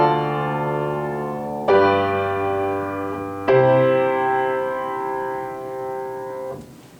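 Three sustained keyboard chords played in succession, a 2-5-1 progression with the 2 chord as predominant, each struck cleanly and left to ring before the last fades out.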